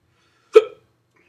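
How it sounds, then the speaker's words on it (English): A single sharp hiccup right after eating a Trinidad Moruga Scorpion chili pepper, short and close, standing alone in quiet. "I'm surprised I don't have the hiccups yet."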